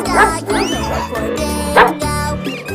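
A dog yips and barks several times in quick, bouncy succession, loud and close, set against a continuous music track in a children's alphabet phonics song.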